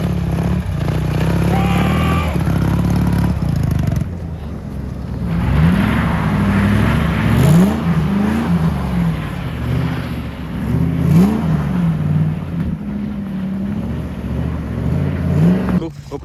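A car drifting on frozen ice in winter, its engine droning loudly and revving in rising, wavering sweeps at roughly fourth or fifth gear, close and continuous with steady road and wind rumble.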